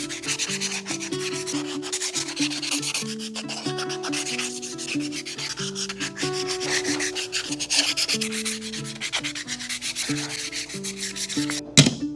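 Rapid back-and-forth scratching of 220-grit sandpaper on wooden spatulas, close and continuous with brief pauses, over soft background music.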